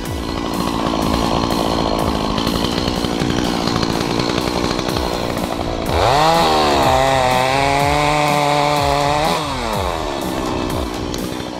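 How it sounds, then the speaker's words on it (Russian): Chainsaw cutting through dry dead standing timber outdoors, running loud and close with a steady high whine that bogs into a lower labored pitch while the chain bites the wood, then revs back up. "Пилим сухостой."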